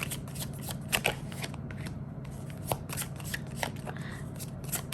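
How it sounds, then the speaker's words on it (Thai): Tarot cards are shuffled and drawn close by in a quiet room, a run of crisp riffling flicks and soft slaps repeating steadily for several seconds. "ขอดู ในส่วนของไพ่สรุปนะคะเอาคำว่า ความรักความสัมพันธ์ของคุณเมธนะคะ"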